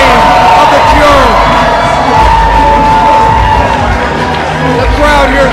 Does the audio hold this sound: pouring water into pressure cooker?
no